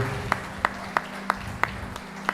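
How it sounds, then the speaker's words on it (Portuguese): A church congregation claps during a worship service, slow single hand claps landing in an even rhythm about three per second over a low sustained hum, with no voices. "Você pode aplaudir ao Senhor?"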